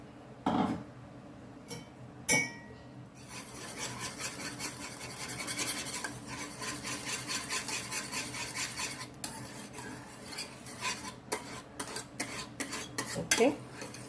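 A utensil stirs and scrapes against a bowl while banana pulp is mixed into a panna cotta mixture. The scraping is continuous, with a few louder clinks at the start and the end.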